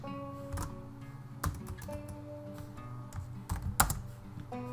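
Java lambda code being typed on a computer keyboard, close and moderately quiet, with a steady patter of key clicks and a few louder thumps over a faint hum.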